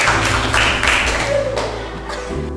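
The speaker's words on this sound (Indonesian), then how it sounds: "Tepuk tangan semuanya ya." Students in a classroom clap together at a teacher's prompt, a brief burst of group hand clapping that carries on steadily before tapering off.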